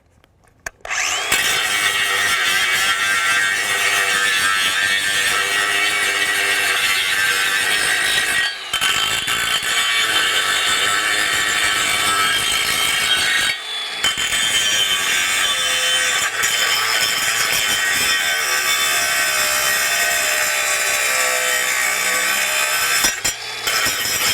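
A Craftsman V20 brushless 4.5-inch paddle-switch angle grinder cuts through material in a loud, continuous high-pitched grinding whine, with a few brief dips as the cut pauses and resumes.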